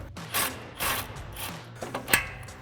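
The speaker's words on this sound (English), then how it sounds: "we're going to use our 18 millimeter socket and swivel adapter to get our nut off" An 18 mm socket on a swivel adapter works a nut loose on a 4WD Ford F-150 suspension, with several short bursts of ratcheting clicks separated by pauses, close and moderately loud.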